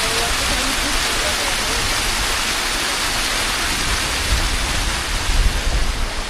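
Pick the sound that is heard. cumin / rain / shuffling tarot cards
rain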